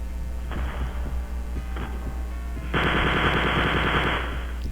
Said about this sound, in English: Rush out, fire a few shots before they can fire at you, and then rush back out.